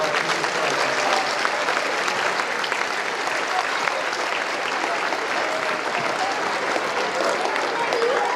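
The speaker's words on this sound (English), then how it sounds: "Please start the applause." Audience applause at a DARE graduation ceremony, a dense steady clapping from a crowd that holds evenly throughout.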